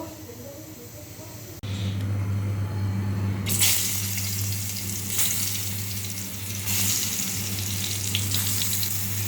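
Tap water runs over dishes being washed in a sink. After a quiet start, a steady close gush begins, turning brighter and splashier a couple of seconds later and continuing with small clatters.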